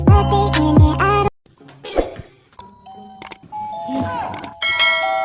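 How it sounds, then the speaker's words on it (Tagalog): A bright chiming bell rings, followed by quieter shuffling sounds, then another chime-like ring near the end. "May nagdo-doorbell sa labas."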